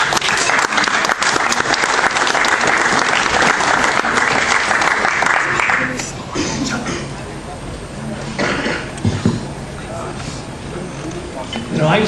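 Audience applause welcoming a U.S. Senate candidate, a loud burst of clapping for about six seconds that thins into scattered claps, coughs and murmurs as the room settles and someone starts to speak.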